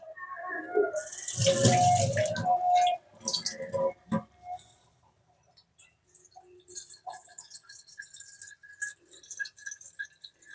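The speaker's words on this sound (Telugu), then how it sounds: "ఇది వాటర్ ఫిల్టర్ అంతా బాగుంది కానీ కొంచెం సన్నగా వస్తున్నాయండి ఫోర్స్గా రావట్లేదు" Water runs from a water filter tap at a farm, a thin, weak flow that splashes loudly at first, then breaks into sparse trickles and drips with quiet pauses between.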